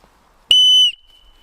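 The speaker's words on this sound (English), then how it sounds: "I have a whistle" One short, piercing blast from a Montbell emergency whistle, loud and close, cutting off sharply and leaving a faint ringing tone.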